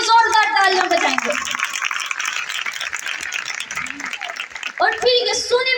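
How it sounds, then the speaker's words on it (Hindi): A church congregation breaks into dense, loud applause at a sermon, the sustained clapping framed by raised, cheering voices at the start and end. "आए खुदावन के जलाल के लिए जोरदार तालियां बजाएंगे।"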